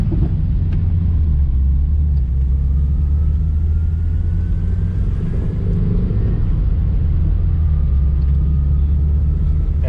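A 1982 Toyota Tercel with a five-speed manual stick shift, heard from inside while driving: a steady, loud low engine rumble and road drone with no break.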